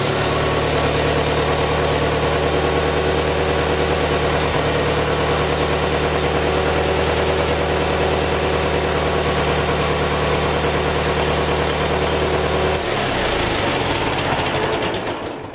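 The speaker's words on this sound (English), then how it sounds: "here we'll start the tractor now" A loud diesel engine of a 404 tractor idles steadily with a rough, knocking rumble close by, then cuts out near the end.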